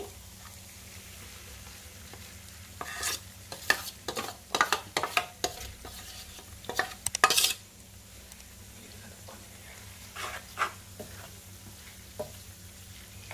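Chilli paste for a mirapakaya curry sizzles steadily in a hot pan while a spoon scrapes and stirs in quick bursts, then the sizzle continues quietly on its own.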